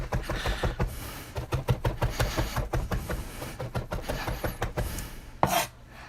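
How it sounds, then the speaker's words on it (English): Garlic minced finely with a knife on a cutting board, a steady run of close, rapid chopping taps with a few brief pauses, no talking. "mince our garlic as fine as you can."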